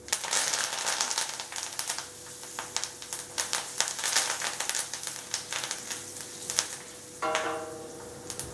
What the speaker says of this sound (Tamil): அடுத்தது இப்போ கருவேப்பிலை போடுறேன்.